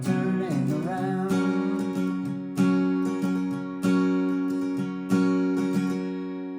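Strummed acoustic guitar playing the chorus, firm rhythmic chords with accented downstrokes every second or so, close-miked and alone without singing.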